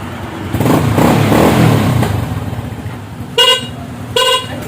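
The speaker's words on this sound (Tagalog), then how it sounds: "Busina." Two short, loud honks of a vehicle horn, running on a new battery, sound near the end, after a stretch of engine noise close by.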